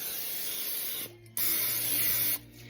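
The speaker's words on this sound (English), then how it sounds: "I do spray them" Two close bursts of aerosol cooking spray on bread pans, each a loud steady hiss lasting about a second, separated by a short pause.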